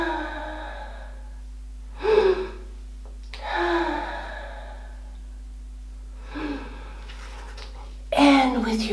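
Slow, audible breaths during a kids' yoga session come in a few spaced in-and-out cycles against a quiet background with a steady low hum.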